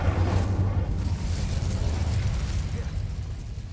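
Hogwarts Legacy's Incendio fire spell is cast in the video game, a loud rushing, crackling burst of flame that is strongest at the start and fades gradually over a few seconds.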